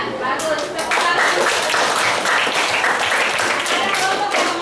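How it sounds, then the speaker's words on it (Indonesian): A classroom full of students claps together in sustained, dense applause, loud and close, with voices mixed in. "Tepuk tangan."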